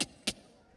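Two quick, sharp mouth clicks imitate a snare hit, close and crisp, with silence between and after.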